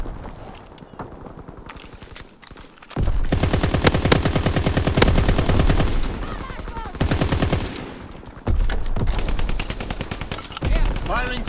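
Strafing-run gunfire in Call of Duty: WWII, loud rapid machine-gun bursts in several long sustained volleys after a quieter opening, with brief gaps between strings of shots.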